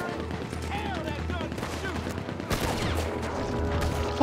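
Gunfire in the cowboy shootout game Red Dead Redemption 2, a rapid rattling volley of shots with a louder burst midway, mixed under someone talking.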